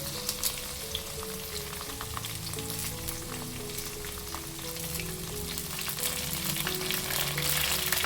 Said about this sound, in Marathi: आता ह्यामध्ये घालूयात बारीक चिरलेलं कांदा, त्याचबरोबर मिरची, कढीपत्ता घालूयात.